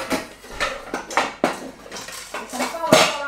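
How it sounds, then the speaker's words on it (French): Metal pots and pans clatter loudly and close by in a home kitchen as a saucepan is pulled out, a quick series of ringing knocks and scrapes with no talking. "Tac, je prends une casserole."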